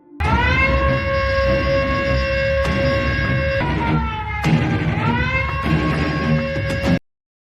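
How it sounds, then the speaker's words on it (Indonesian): An emergency siren in a film wails loudly and continuously, its pitch dipping and rising in long sweeps for about seven seconds before cutting off abruptly. "sirine kembali berbunyi"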